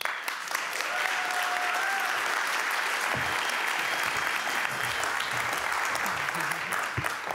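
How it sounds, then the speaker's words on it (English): An audience applauds steadily for keynote speaker Afua Hirsch at an Africa Day event in Amsterdam, a dense, sustained wash of clapping that carries through the whole stretch with no talk over it. "Can I have a very big applause for Afua?"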